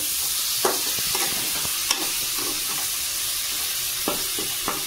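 Chicken curry being stirred in a pan, with soft scraping strokes of a spoon and a steady low sizzle, several distinct stirs spaced a second or so apart, close and alone.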